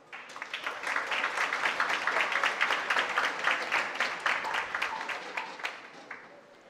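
An audience at a provincial oratory contest final in Veraguas claps steadily for several seconds, a moderately loud, even wash of applause that tapers off at the end.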